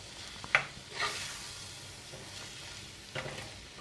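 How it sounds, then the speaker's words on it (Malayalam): Kerala-style squid thoran is stirred in a pan with chilli and pepper powder, soft scraping strokes over a quiet sizzle, with a few sharper spoon clinks against the pan. "ഒന്ന് ഇളക്കി കൊടുക്കാം."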